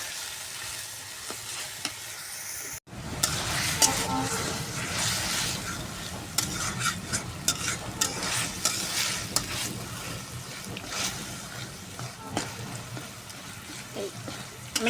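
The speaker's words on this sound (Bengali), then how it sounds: "এখন এই পানিটা সুন্দর করে মেরে ফেলবো" Boiled red amaranth greens sizzling and frying in a pan as their water cooks off, with stirring scrapes; a short break near the start, then continuous close sizzle.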